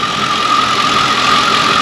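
A 2006 Lincoln Town Car Signature Limited engine runs steadily up close, a constant whirring hum with a high, squealing belt-like whine riding over it, unbroken and fairly loud throughout.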